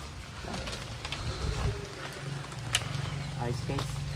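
Caged pigeons coo in low, soft bursts amid rainy background noise, their murmuring calls repeating close by while people talk over them.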